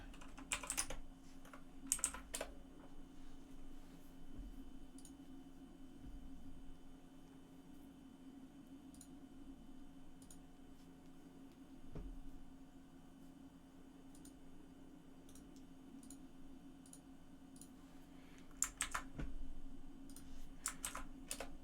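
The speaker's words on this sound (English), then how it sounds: "My keyboard tray is super loud." Fast clattering keystrokes on a computer keyboard resting on a loud, rattly keyboard tray, close and steady, with denser bursts near the start and end over a constant low hum.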